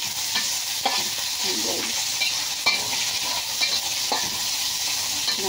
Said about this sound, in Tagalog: Lagi pong, siyempre po, igigisa mo rin yung paminta.